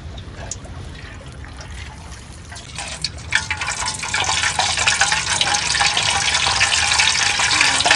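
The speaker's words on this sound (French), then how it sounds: "maintenant, on met le poisson dans l'huile" Fish is lowered into hot oil for a Khmer stir-fry and the frying builds quickly into a loud, dense crackling sizzle that holds steady, close up, with no one talking.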